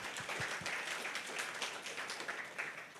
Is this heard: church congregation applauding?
yes